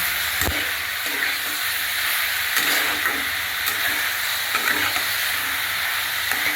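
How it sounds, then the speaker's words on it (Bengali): Ginger and spice paste sautéing in a pan with turmeric, cumin and coriander powder and salt, a steady loud hiss and sizzle that runs throughout, close by, with occasional spatula scrapes and no talking. "দিয়ে ভালো করে আমি কষিয়ে নিচ্ছি"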